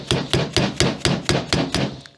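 A hammer gently taps a putty knife wedged under the valve cover of a Honda GC series engine, about eight even, crisp metallic knocks at a steady rhythm, close and clear.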